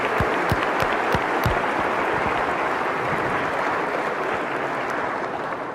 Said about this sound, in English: So now, clap for them.